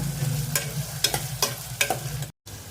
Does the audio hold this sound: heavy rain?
no